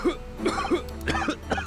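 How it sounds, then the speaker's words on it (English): A character in The Great Ace Attorney Chronicles coughs in a quick run of short, dry bursts, four or five close-spaced hacks delivered fairly softly and on their own. "Stop coughing."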